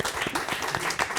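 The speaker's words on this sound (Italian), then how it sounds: "Ma non ci fate un applauso per questo?" Brief applause from a studio audience on an Italian Saturday-afternoon TV variety show, steady clapping throughout with faint voices mixed in.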